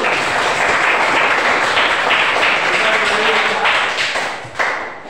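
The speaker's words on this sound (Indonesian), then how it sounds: "tepuk tangan untuk kelompok 1" Classroom applause for a student group during a cooperative-learning lesson: a dense, steady wash of many hands clapping at once, fairly loud and continuous, easing off near the end.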